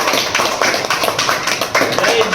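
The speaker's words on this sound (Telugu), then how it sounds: "క్లాప్స్" Scattered clapping from a small gathering at a local BJP party meeting in Gudipalli mandal, uneven bursts of claps with voices mixed in.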